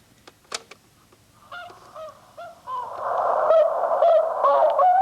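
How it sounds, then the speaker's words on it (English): Whooper swans calling at Martinmere, bugling honks that start as a few separate calls and swell into a dense, overlapping chorus of whooping notes close by. "They're called hooper swans because of the sound they make"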